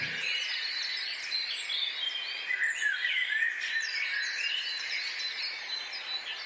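Birds call and chirp outdoors in a quiet natural setting, a steady bright twittering with thin repeated notes that runs the whole time at a moderate distance, with no talking.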